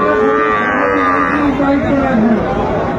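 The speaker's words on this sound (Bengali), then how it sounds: "শাহিওয়ালের ষাঁড় বাচ্চা আমরা দেখছিলাম এখানে।" A Sahiwal bull calf at a cattle market gives a loud, sustained moo close by, with crowd chatter and other market noise around it.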